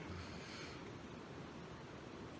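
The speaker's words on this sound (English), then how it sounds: "Something also about the sound of, a river nearby makes it easy to sleep." A river flows steadily near a campsite at night, a continuous broadband rush of moving water close by with no voices.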